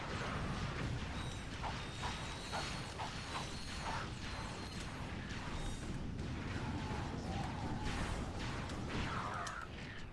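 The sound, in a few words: wrench turning a bolt crank in Ratchet & Clank 3 video game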